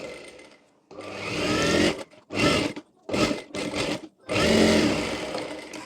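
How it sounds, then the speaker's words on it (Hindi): Close, loud sewing machine stitching a small girl's choli runs in several bursts of varying length with short pauses between, the motor whirring up and down with no talk over it. "यहाँ पर चारों ओर सिलाई कर लेंगे।"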